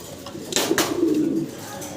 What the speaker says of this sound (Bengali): দর্শক আমরা দেখতে পারতেছি এখানে ভাইয়ের কাছে আরো এক জোড়া কবুতর